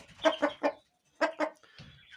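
A rooster clucks close by in short bursts: three quick clucks, a pause, two more, then a softer low trailing call.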